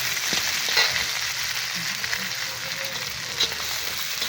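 Garlic frying in a pan for spicy pork ribs, giving a steady close sizzle with light stirring scrapes and no talk over it.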